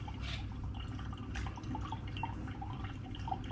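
Homemade rhubarb and ginger cider drips and trickles into a bottle during bottling, soft irregular liquid drips over a low background hum, close and faint.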